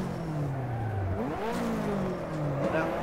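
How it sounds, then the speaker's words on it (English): Simulated drift car in rFactor with the clutch kicked, engine note sweeping up and down in steady revving bursts, tires faintly squealing, with someone talking over it throughout. "Gotta do some clutch kicking here."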